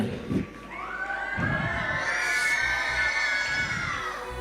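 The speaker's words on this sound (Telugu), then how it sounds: "వీళ్ళకి గట్టిగా చప్పట్లు కొట్టండి." A crowd at a church gathering cheers loudly after a dance, rising shouts and whoops swelling into a sustained roar with scattered claps, close and energetic.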